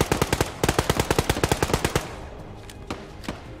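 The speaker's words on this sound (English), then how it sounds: "Machine guns keep suppressing in that direction." Rapid machine gun bursts in the video game Arma 3, with loud, evenly spaced shots for about two seconds, then a few sparse, fainter distant shots.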